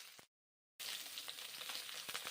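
Tilapia fish fry in hot oil in a pan, giving a steady, loud sizzle with crackles and pops. It cuts out briefly near the start, then resumes.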